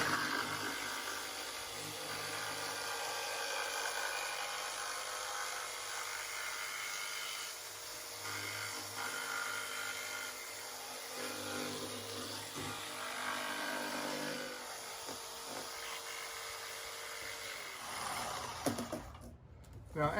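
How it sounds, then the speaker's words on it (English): A jigsaw cutting through cardboard to make rustic Christmas trees, a fast buzzing whine with a rough rasp that runs steadily and close for a long stretch, then stops near the end. "It's very, very simple, especially with the jigsaw here. It just sails through it."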